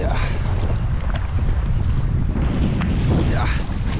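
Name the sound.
wind on a lake while packrafting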